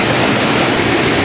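Lambingan Falls in the Philippines pours in a steady, dense rush of falling water, loud and close, with no voices.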